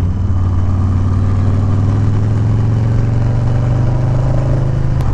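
A Harley motorcycle engine running steadily while riding on the road, a loud, continuous low rumble with constant wind noise and no speech.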